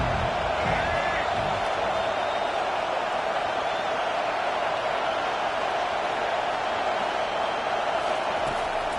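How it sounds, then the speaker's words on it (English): Steady roar of a video game stadium crowd in NCAA 25 college football, swelling loud and continuous on a third-down defensive stand, with a broad wash of noise holding level throughout and no clear talk. "decibels rising as the crowd gets behind this defense on third down"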